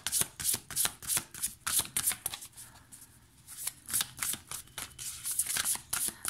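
A deck of large tarot cards is shuffled by hand in quick, repeated riffling bursts. The shuffling is close and fairly loud, with a brief pause in the middle before it picks up again.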